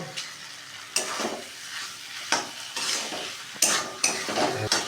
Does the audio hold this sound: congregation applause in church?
no